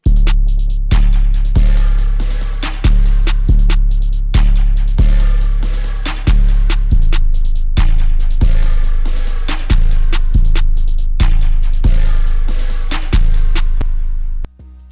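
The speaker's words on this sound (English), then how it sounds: "Now altogether, those drums sound like this." A programmed drum beat plays steadily: booming bass hits with crisp drums and hi-hats in a repeating loop, loud and up front, cutting off at the end.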